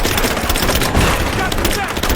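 Rapid, dense gunfire crackles through a short burst of combat in Rise of the Tomb Raider, close and loud, with shouted voices mixed in among the shots.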